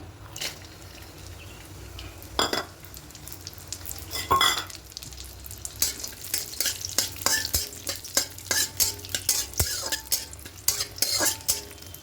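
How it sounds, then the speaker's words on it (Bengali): Whole garam masala (cinnamon, cardamom, cloves) with cashews and raisins frying in ghee for a rose-scented pulao: a steady close sizzle with repeated scraping stirs and utensil clinks that grow busier toward the end. "এবার ঘিয়ের মধ্যে দেবো গোটা গরম মশলা দারুচিনি এলাকা লবঙ্গ এবার এখানে কাজু আর কিশমিশটা দিয়ে দেবো"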